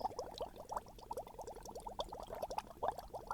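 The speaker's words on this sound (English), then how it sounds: "I hear the faint bubbling of water as it begins to heat" Water bubbling as it heats in a pot on a kitchen stove, a dense run of small quick pops and gurgles that keeps up steadily at low volume, with no voices.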